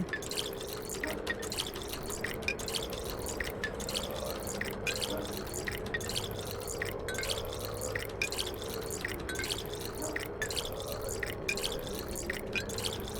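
Clean water drips steadily in the video game Pathologic 2, with regular repeating drops over a constant watery background hiss, fairly close and alone without talk.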